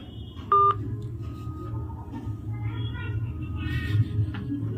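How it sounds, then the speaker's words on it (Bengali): A phone number is dialed, a short touch-tone beep heard clearly near the start, followed by a quieter line tone and faint background murmur. "চলুন আরেকবার আমরা তাকে ফোন করছি।"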